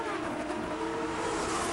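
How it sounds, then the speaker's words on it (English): Champ Car race car from 2004 on the front straightaway at Vancouver, engine loud and close, roaring steadily as it climbs up through the gears with no one talking. "Bourdais climbs up through the gears on the front straightaway here, heading toward turn 1 at Vancouver."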